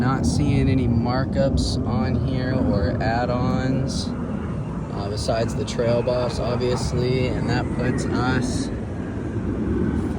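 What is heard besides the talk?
jet aircraft flying overhead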